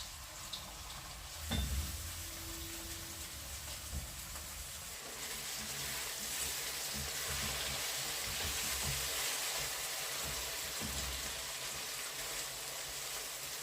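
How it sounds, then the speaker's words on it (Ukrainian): Chopped onion fries in oil in a pan for a vegetable spread of courgettes, giving a steady soft sizzle and hiss that grows slightly fuller over time, with a brief knock near the start and no talking. "Просмажуємо цибульку до золотистого кольору, щоб вона стала прозора"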